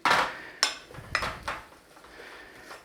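Flour being stirred into a pan and cooked over moderate heat for a lasagna sauce: a spoon scrapes and knocks against the pan in several distinct clinks and taps, close and fairly loud, with no talk.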